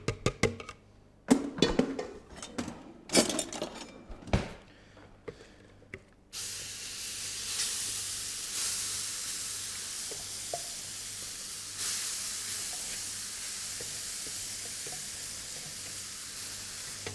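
Loud steady sizzling and hissing of spinach in a hot frying pan, preceded by several sharp clatters and knocks of cookware.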